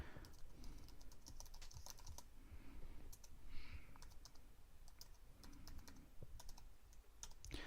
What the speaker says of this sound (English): I'm typing directly on my Bluetooth keyboard and it's going straight into there.